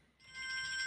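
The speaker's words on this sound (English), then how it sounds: "Work phone just rang." A work phone starts ringing with a bright electronic tone that swells up and holds steady, heard alone in a quiet room.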